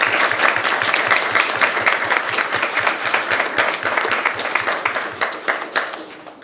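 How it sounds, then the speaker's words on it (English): Close, lively applause at a school board of education work session, many hands clapping in a dense, rhythmic patter for several seconds, some claps standing out sharply before it thins toward the end. "Let's give them a big round of applause."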